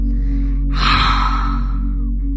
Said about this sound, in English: exhaling forcefully with the mouth open, tongue extended, and a ha sound